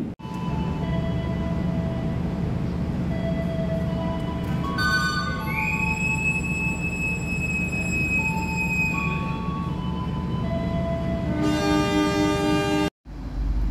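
Kuto Jaya Selatan passenger train standing at Kutoarjo station, a steady loud rumble of idling carriages with bright tonal horn or whistle tones rising midway and again near the end, no talk.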